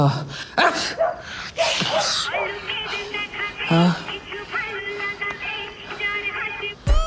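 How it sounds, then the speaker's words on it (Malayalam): A person sneezes abruptly in a Malayalam film scene, with a few sharp, explosive bursts close to the microphone near the start, followed by voices talking. "എന്താണ് പെട്ടെന്നൊരു തുമ്മലും ചീറ്റലും?"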